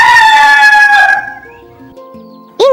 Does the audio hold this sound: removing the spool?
no